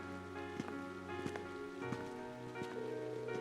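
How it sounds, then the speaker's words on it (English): Steady rain patters on surfaces in the video game Trails of Cold Steel, a soft continuous hiss with faint drips, under a sustained tonal music bed. "It's just a bit of rain."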